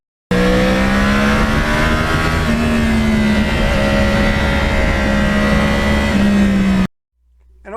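A Yamaha R1 sport motorcycle with a crossplane engine and stock exhaust runs steadily at moderate revs, a loud continuous hum with slight pitch shifts, then cuts off abruptly near the end.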